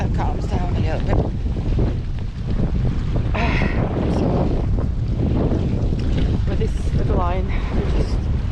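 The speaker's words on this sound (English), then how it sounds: "The wind is quite strong, so we'll have to wait it out." Strong wind buffets a boat riding at anchor, a continuous roar of gusts and microphone wind noise with water sloshing beneath. Voices talk intermittently over the rushing air.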